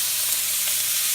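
Steaks sizzle and fry in a hot pan just after being flipped, a steady dense crackling hiss that stays loud and even throughout, with no talking.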